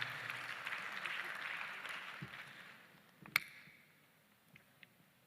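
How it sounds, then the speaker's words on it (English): Applause for panelists from a conference audience in a main hall, a broad clapping wash that fades after a few seconds into a quieter room with one sharp knock and a few scattered clicks. "A round of applause for all this."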